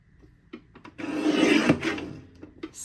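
Paper trimmer slicing a strip of scrapbooking paper: a few faint ticks, then one close, rasping scrape lasting about a second, followed by light clicks.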